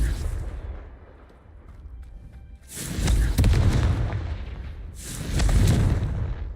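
Confringo spell blasts in Hogwarts Legacy: two heavy, loud explosive booms a couple of seconds apart, each with a rumbling tail, following a quieter stretch of background game sound.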